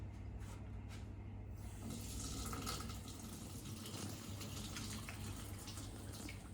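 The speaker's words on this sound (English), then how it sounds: "Remember, washing your hands." Tap water runs steadily into a kitchen sink as hands are washed, a continuous soft splashing rush with slight variations as the hands move under the stream, heard alone and fairly quiet.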